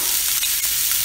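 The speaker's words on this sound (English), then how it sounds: "Let's see if we get the sizzle today." Steady sizzling of grass-fed beef frying in a hot pan, a continuous crackling hiss with a few brief stirring scrapes, close and fairly loud, no talking.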